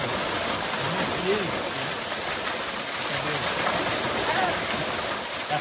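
Geralda waterfall in Canelinha, Santa Catarina, a steady broadband rush of falling water heard close and loud, with faint voices underneath.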